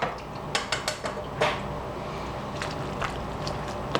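A utensil stirs vegetables into a bowl of cornbread dressing, giving a few light clinks and scrapes against the dish early on, then softer, muffled mixing sounds close by.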